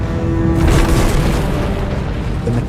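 An asteroid impact explosion throws millions of tons of rock into space, heard as a loud, deep, sustained rumbling boom that swells after a brief onset and keeps roaring.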